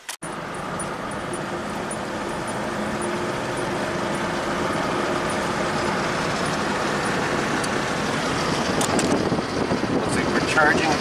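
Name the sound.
2012 Honda Odyssey minivan driving on road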